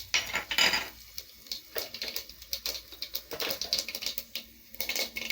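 Mustard seeds, fenugreek, cumin and dried chillies spluttering in hot oil, a rapid, irregular crackle of sharp pops and sizzles, close and fairly loud, with no talk over it.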